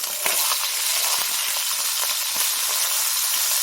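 Beef burgers for a bistro cheeseburger hiss and crackle steadily in a hot pan as they are flipped, a loud, dense sizzle with small pops scattered throughout.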